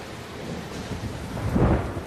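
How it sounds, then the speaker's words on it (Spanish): Heavy rain pours down in a dense, continuous hiss across open high country, with a low rumble of thunder swelling near the end. "La lluvia se adueña de la tierra alta"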